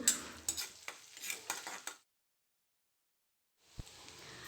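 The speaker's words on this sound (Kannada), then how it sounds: "ಜಜ್ಜಿಟ್ಕೊಂಡಿರುವಂಥ ಒಂದು 8ರಿಂದ 10 ಹೆಸರಷ್ಟು ಬೆಳ್ಳುಳ್ಳಿನ ಹಾಕಿ ಸ್ವಲ್ಪ ಇದ್ರ ಘಮ ಬರೋವರೆಗೂ ನಾವು ಇದನ್ನು ಫ್ರೈ ಮಾಡ್ಕೋಬೇಕು" Crushed garlic with cumin, red chillies and curry leaves frying in oil for rasam, giving a soft close sizzle with stirring that stops into silence, then a clink and the sizzle returning.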